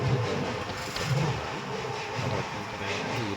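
A train passes near a bridge, a loud, close, rumbling clatter with rough, uneven pulses that keeps going throughout the short stretch.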